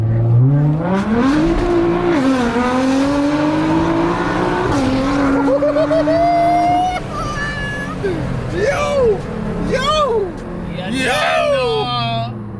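A Rocket Bunny widebody Nissan GT-R R35 revs hard through a strong gear pull, its engine note climbing steadily and loud, with tire squeal and excited voices shouting over it.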